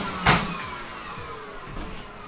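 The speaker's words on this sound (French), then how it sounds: "je finis mon petit coup d'aspirateur" A vacuum cleaner drones steadily while cleaning a pet rat room, its motor whine continuous and close, with a brief louder bump near the start.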